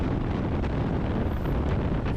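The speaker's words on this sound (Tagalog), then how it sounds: "So ayan, lakas po ng hangin at ang lamig." Strong, cold mountain wind roars through an open car window near the Gudauri resort, a loud continuous buffeting rush close to the microphone with no voices.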